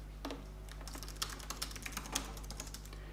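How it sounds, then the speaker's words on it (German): Typing on a computer keyboard while building a Shopify page, a quick run of soft irregular key clicks, close but quiet, with no talking. "So, ich schreibe jetzt mal hier rauf"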